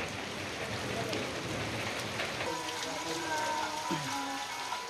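Steady rain falls during Indonesia's rainy season near a bamboo raft, a dense, even patter running through the whole stretch with no break. A faint voice or tonal sound surfaces briefly partway through.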